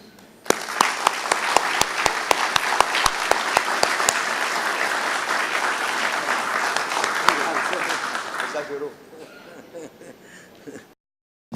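A large convention audience breaks into loud, dense applause with sharp individual claps standing out near the front. It holds steady for about eight seconds, then cuts off abruptly into near silence.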